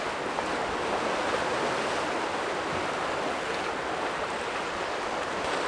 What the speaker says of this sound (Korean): 파도가 세. 여기가 영덕이라서.